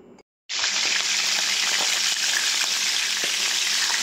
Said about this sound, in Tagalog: prito na natin ang ating isda